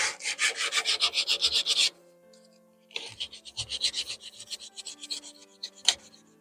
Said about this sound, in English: I'm only going to sand where there's damage.